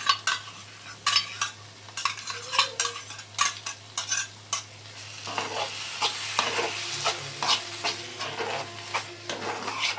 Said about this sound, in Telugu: ఇప్పుడు దీనిలో ఈ పెరుగు యాడ్ చేసుకుందాం